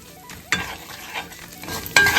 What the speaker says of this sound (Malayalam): നന്നായിട്ട് മിക്സ് ചെയ്യാം നമുക്ക്.